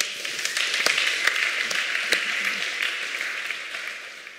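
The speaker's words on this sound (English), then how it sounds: "Give him a round of applause." A crowd claps in steady applause, a dense patter with a few sharper individual claps standing out, gradually tapering off.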